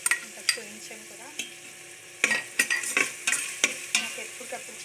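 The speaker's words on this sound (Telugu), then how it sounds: "ఇప్పుడు అల్లం వెల్లుల్లి పేస్ట్ వేసుకోవచ్చు." Ginger garlic paste fries in a pan with a soft, steady sizzle, broken by sharp scraping and tapping strokes of a spoon stirring it, heard close with no talk.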